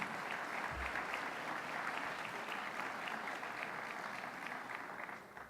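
Steady applause from a crowd, many hands clapping continuously at an even level with no voices rising above it.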